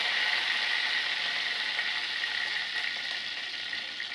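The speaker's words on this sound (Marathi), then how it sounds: "मग 1 टीस्पून मोहरी घाला. कढीपत्त्याची 3-4 पाने घाला." Mustard seeds and curry leaves sizzle and crackle steadily in hot oil in a pot over medium heat, a dense, close, continuous frying hiss that holds level throughout with no talk.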